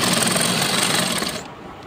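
A sewing machine runs steadily, stitching a seam on a salwar, close and fairly loud, then cuts off about three quarters of the way through, leaving a quiet room.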